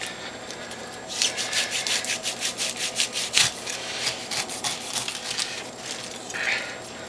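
A knife saws through the tough peel of a pineapple in a run of quick rhythmic rasping strokes, close by and fairly loud, fading out toward the end with no talking.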